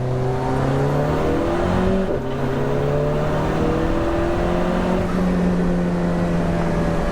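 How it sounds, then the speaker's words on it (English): Alfa Romeo 4C Track Edition engine revving hard in dynamic mode, loud and close, with rising and falling pitch sweeps as it climbs through revs, a brief dip near the two-second mark, then pulling up again steadily to the end. "Let's just listen to what this amazing car has to offer."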